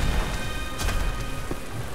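Rain conjured by a spell in the video game Magicka, a steady broadband hiss of falling drops that holds loud and even across the whole moment, with a brief brighter burst partway through.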